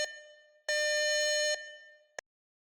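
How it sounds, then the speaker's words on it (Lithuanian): A phone's extreme-weather warning alert sounds as a loud buzzing tone that swells in the middle, fades, then ends with one short final beep, clear and alone. "Telefono ekrane pasirodo pranešimas apie ekstremalius orus."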